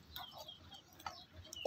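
Farm chickens about to be slaughtered cluck and call in short, scattered bursts, fairly faint, with light clicks and ambient noise between the calls.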